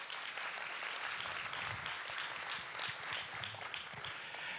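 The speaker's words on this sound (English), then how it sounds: "Give them a round of applause, please." Audience in a church hall gives a round of applause for Life Fellowship Church, a steady, fairly faint wash of many hands clapping continuously throughout with no talking.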